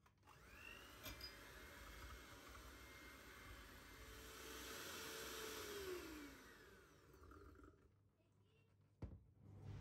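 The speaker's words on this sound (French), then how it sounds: "Et là, je vais venir mélanger au batteur." An electric hand mixer whirs steadily while blending sugar for a batch of weekly snacks, a quiet continuous motor hum that swells slightly midway and then fades, followed by a brief clatter.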